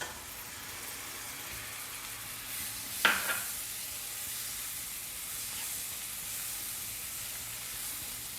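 Chopped tomato goes into a hot pan for egg masala, giving a soft steady sizzle and hiss with a single brief clatter as it drops in, fairly quiet and with no voices.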